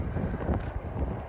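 Wind buffets the microphone in steady low rumbling gusts throughout, with no clear voice over it.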